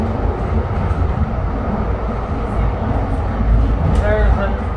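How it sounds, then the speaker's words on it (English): A Siemens SD160 light rail train on the Blue Line rumbles low and steady nearby while people talk over it, with a brief high whine near the end. "Another train getting ready to go,"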